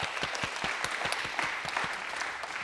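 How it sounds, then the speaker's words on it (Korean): A church congregation claps as people are greeted at the end of a Sunday worship service, a brisk crowd applause with distinct rhythmic beats running steadily throughout, fairly close and alone without talk. "인사하고 들어갈 때 우리 박수로."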